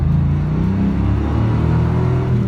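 A 1996 Pontiac Formula Firebird with the LT1 V8 and 6-speed manual pulls hard at half throttle, its deep engine rumble rising steadily and loud throughout, with no voices.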